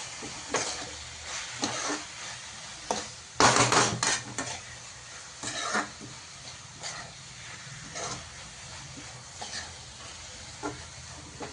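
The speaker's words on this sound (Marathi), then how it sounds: "याला आता आहे ना चांगलं मिक्स करून घेऊ" A dry stir-fry of spring onion greens is stirred in a pan. Scattered scraping strokes and clinks sound over a soft sizzle, with a louder burst of clattering near the middle.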